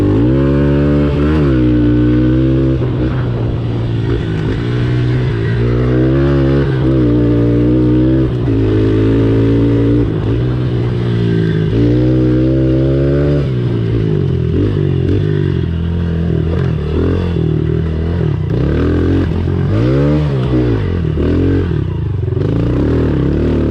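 A Honda CRF 110 enduro motorcycle's small engine revs and accelerates repeatedly on a slippery, muddy trail, climbing and dropping in pitch in close, loud surges that continue throughout.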